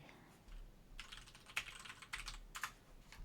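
Fast typing on a computer keyboard, with short bursts of sharp clicks separated by brief pauses, close and fairly quiet, over a faint low background hum and no speech.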